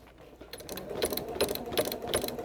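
A sewing machine stitches in the ditch on a quilt, starting after a short pause and then running in quick mechanical bursts of clattering stitches, close and moderately quiet, with no talking.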